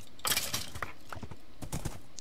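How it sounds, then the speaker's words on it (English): Galloping horse hooves in a survival video game, a quick series of clip-clop strikes with a brief whinny, fairly close and alone without talk. "Come on, horse, run."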